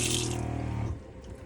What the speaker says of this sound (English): We have a switch here for the water pump.